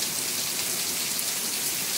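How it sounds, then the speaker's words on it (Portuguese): Rain falls steadily on a backyard in the hot northeastern Brazilian backlands, a dense, even hiss of drops with no pauses and no voices. "mostrando aqui a vocês essa chuva deliciosa que está caindo para molhar o nosso chão"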